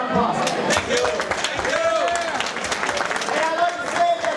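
An audience at a WXC 47 heavyweight MMA event applauds steadily, a dense wash of clapping from a crowd, with some voices mixed in throughout.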